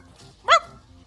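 A person imitating a dog gives a single short, sharp bark-like yelp, fairly loud and close, amid quiet background noise.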